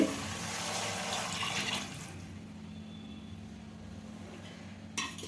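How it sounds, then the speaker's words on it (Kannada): Water is poured into a pan while vermicelli upma is being made, a brief splashing rush that fades to a quieter trickle and then a low background, with a small clink near the end. "ಈಗ ನೀರು ಹಾಕಿ ನೀರು ಕುದಿಯೋವರೆಗೂ ವೆಯ್ಟ್ ಮಾಡಬೇಕು"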